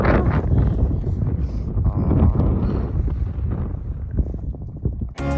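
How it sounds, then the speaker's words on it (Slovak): Strong wind roars steadily across the microphone on a mountain hike to Bystrá, a loud continuous rumble that drops out abruptly near the end. "Všade ako to fučí."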